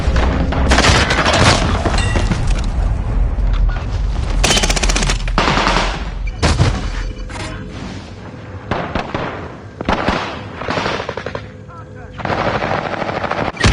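A military shooter video game fills the scene with loud, dense machine-gun fire and booming explosions in heavy bursts, with brief lulls between them and voices faintly under the combat.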